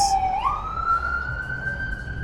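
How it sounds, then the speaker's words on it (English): A siren wails nearby, its pitch sweeping upward and then holding as it carries past, loud and clear over faint background rumble. "after the siren passes"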